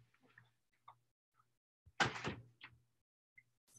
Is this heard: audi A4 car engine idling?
no